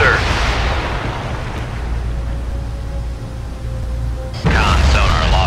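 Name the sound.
submarine torpedoes firing from tubes, video game Cold Waters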